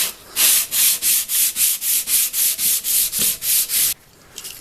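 Rapid back-and-forth sandpaper strokes scrape against a rusty metal bandsaw table, about eleven even rubs in steady rhythm, close and loud, then stopping.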